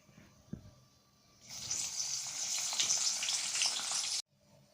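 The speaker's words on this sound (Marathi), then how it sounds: "अख्खा लसूण मी घेतलेला आहे हा फ्राय करून घ्यायचा आहे" Whole garlic cloves dropped into hot oil burst into a loud, steady sizzle that holds for a few seconds and then cuts off abruptly, with a faint clink just before.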